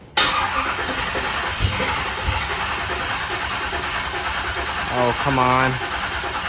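A 1955 Chevy engine with a carburetor and an electric fuel pump cranks steadily with a loud, continuous churning whir. A man mutters in frustration near the end.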